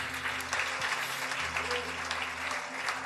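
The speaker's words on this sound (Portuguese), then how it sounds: "Se é para Jesus, aplaude aí." Steady applause from a church congregation fills the space, a dense patter of clapping that continues evenly throughout.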